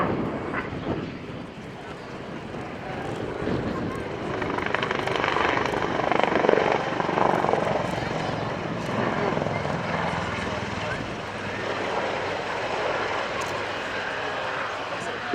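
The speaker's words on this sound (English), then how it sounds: "It's a maritime attack helicopter and Wildcat Mark II was first introduced into the Royal Navy in" A Royal Navy Wildcat Mark II maritime attack helicopter performs at an airshow, its rotor and engine roar sustained and fairly distant while a commentator talks over it.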